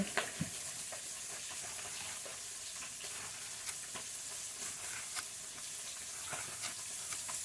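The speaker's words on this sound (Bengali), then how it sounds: "মাছ তো ভাজা হচ্ছে" Rohu or pona fish fry in a pan with a steady bright sizzle and spatter, broken by occasional small pops and clinks, close and continuous with no speech.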